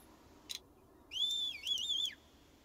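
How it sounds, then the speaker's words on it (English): A whistle from the video game Farm Together gives a short chirp, then a clear two-part melodic whistle that rises and wavers, moderately loud over a quiet background. "That's a decent whistle."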